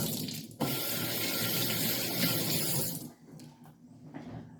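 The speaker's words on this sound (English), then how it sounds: "Gonna go rinse my hands real quick." Tap water runs steadily into a kitchen sink while hands are rinsed. The rush is loud and close for about three seconds, then it stops and faint handling noises follow.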